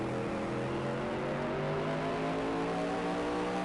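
A super modified race car on a paved oval roars steadily at high revs, its engine tone climbing slowly as it powers out of the final turn, loud and continuous.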